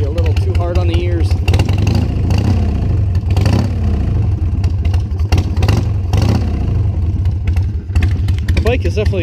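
Harley Sportster motorcycle fitted with lollipop exhausts revs and pops loudly and crisply up close, a steady low rumble broken by sharp bursts, with a voice speaking over it.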